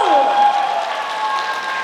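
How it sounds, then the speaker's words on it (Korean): Outdoor crowd applause at the closing concert of the 57th Danjong Cultural Festival on a riverside special stage in Yeongwol, a brief, steady wash of clapping with sustained tones and a voice beneath. "박수 부탁드릴게요. 박수!"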